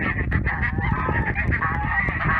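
Domestic geese honk repeatedly outside in the snow, a close, steady chorus of overlapping calls without a break.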